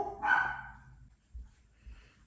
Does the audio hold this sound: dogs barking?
yes